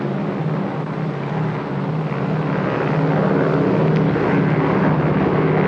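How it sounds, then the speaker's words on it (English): A magnetometer survey airplane flies over a ridge, its steady engine drone continuous and fairly loud throughout, swelling slightly toward the end with no speech. "After day, the plane crisscrossed the ridge and recorded magnetic profiles."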